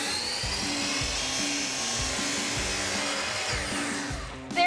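A power saw cuts through plywood to finish a cross cut, a loud, steady high-pitched whine with a rhythmic low chugging underneath, running continuously before easing off at the very end.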